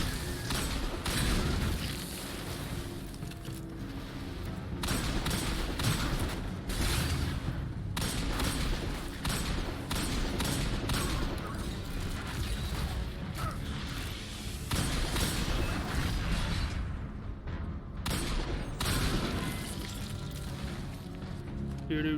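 Pistol fire in Destiny 2 cracks out in repeated sharp shots amid game combat noise, loud and close, with bursts and brief pauses, while a voice talks over the action.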